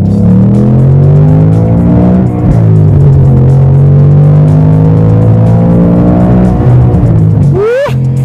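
Ford Mustang Bullitt V8 engine at full throttle, loud and close, pitch climbing steadily through a long pull with a shift dip midway and a final sharp rev at the end.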